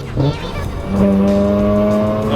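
A Mazda RX-8's rotary engine revs up sharply to redline and holds a loud, high, buzzing whine near the limit, close and intense.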